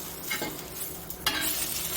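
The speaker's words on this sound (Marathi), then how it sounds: "हे रताळे असे अशा प्रकारे भाजले गेले पाहिजे" Sliced sweet potatoes roast on a hot tawa with a soft, continuous sizzle and occasional scraping stirs. A sharper scrape lands about midway before the hiss settles back to a steady level.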